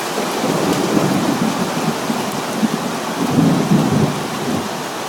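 Heavy rain pours steadily through a severe north Texas thunderstorm while low thunder rumbles and rolls underneath, swelling louder late on, with no voices.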